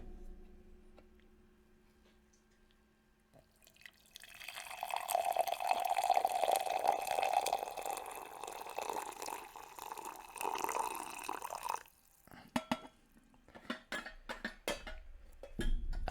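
Dark roast coffee pours steadily into a giant mug, a close liquid stream that runs for several seconds, then gives way to faint drips and small clinks.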